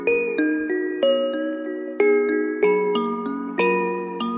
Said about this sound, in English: This is the main bell line.